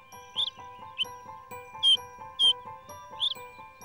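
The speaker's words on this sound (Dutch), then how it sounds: "Het is het tjilpen van een jong vogeltje." A young bird chirps in a children's cartoon, giving a handful of short, bright tweets spaced roughly half a second apart over a soft, steady musical backdrop.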